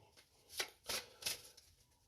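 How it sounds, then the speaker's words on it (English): A deck of oracle cards is shuffled in three brisk riffling bursts, close and soft, with quiet pauses between each flurry of papery flicks. "Just going to give these a really good old shuffle."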